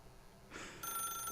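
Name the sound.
telephone ringing in the video game Stanley Parable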